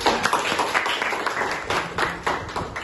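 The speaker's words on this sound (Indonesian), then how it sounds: "Kasih tepuk tangan buat kita." A class of students claps together during an education marketing lecture, a dense, steady patter of hands lasting a few seconds with no talk over it.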